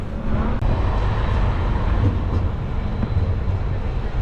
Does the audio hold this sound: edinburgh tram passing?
yes